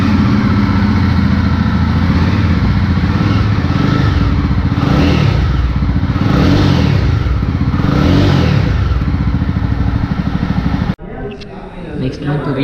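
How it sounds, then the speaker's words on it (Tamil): Jawa 42 motorcycle engine running steadily and loud, with repeated revving swells over a constant low rumble, then cutting off abruptly near the end. "வண்டியோட சவுண்டு கேட்கலாம்."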